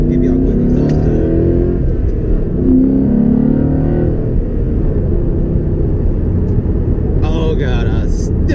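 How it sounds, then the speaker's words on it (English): A car's exhaust rumbles deep and loud at close range, the engine rising and falling through a couple of revs before settling into a steady idle, with a brief voice near the end. "Give y'all a quick exhaust tone."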